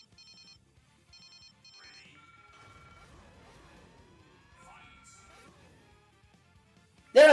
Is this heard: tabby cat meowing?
no